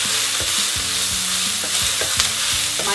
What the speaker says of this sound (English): My onions are golden brown now